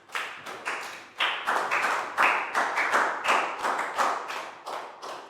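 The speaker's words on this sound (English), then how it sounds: "High five and a big round of applause for Chu." Classroom applause for a Year 4 student: a small group clapping unevenly, close and crisp, in repeated bursts of hand claps for about five seconds with no talking.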